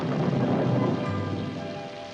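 Rain pours steadily outside, a dense continuous hiss with a low rumble underneath, heard at moderate loudness for a couple of seconds with no talking.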